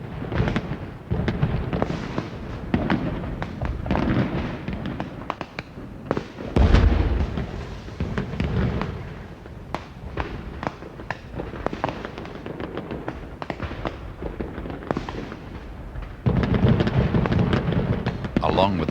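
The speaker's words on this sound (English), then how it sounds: "Along with the fireworks," Fireworks bursting over Edinburgh during the festival season, a dense run of loud booms and crackling pops throughout, with crowd noise and speech mixed underneath.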